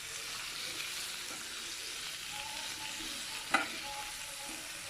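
Chicken Manchurian mixture being stirred in a pan over high flame, a steady soft sizzle and frying hiss with light scraping of the spoon and one brief sharp clink near the end, no talking.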